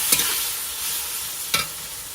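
Spices sizzling in hot oil for tempering dal, a steady crackling hiss with two sharp bursts as ingredients hit the pan, close and alone without talk.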